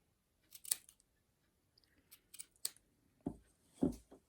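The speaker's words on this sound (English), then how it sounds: "Let me trim it all a little bit." Scissors snip craft material for a no-sew gnome in a quiet room, about half a dozen crisp close cuts at irregular intervals, with a couple of soft handling thumps near the end.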